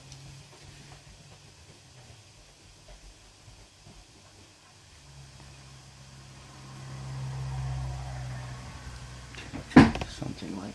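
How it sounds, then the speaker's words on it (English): An office chair rolling across a cable on the floor: a low rumble builds gradually and ends in a short, louder bump, with faint quiet room noise beforehand. "I'm just driving over the cable right now with my chair"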